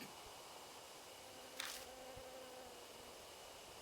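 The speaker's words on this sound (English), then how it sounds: "The buzz of bees fills the air." Bees buzzing in a video game horror scene where women's corpses have become hives: a faint, steady insect drone over low background ambience, with one brief louder buzz passing close.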